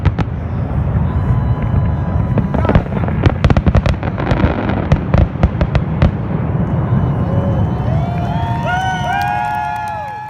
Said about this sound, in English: Insert fireworks here.